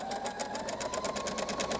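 A sewing machine stitches elastic onto a cloth face mask, a steady rapid whirring hum of the needle running continuously at close range, with no speech.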